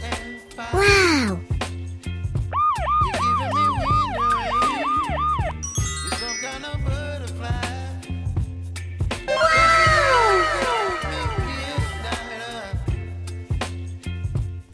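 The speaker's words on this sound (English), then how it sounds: "Baby, you give me ambulance." Cartoon ambulance siren rising and falling in a fast repeated wail, loud among other playful children's-song sounds and synth music, with a cat-like meow at the start.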